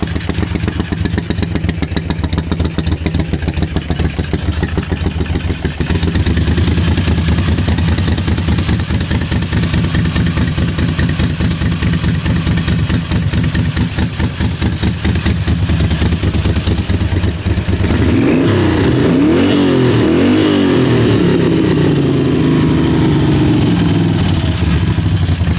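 A 1978 Moto Guzzi 1000 SP, a V-twin street fighter with the choke on, idles loudly and steadily up close before rising into revs near the end.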